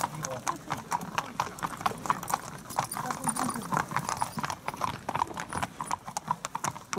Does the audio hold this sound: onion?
no